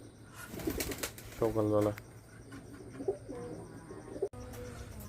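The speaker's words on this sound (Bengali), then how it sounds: "দেখেন কবুতর খাবার খাচ্ছে" Pigeons feeding in the morning, with soft cooing and a brief burst of wing flapping near the middle, over a steady low background hum while a person speaks briefly.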